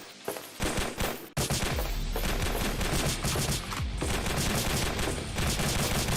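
Rapid, continuous gunfire from a game jam video game, loud dense bursts of shots running almost without pause, with one brief drop in the volume early on.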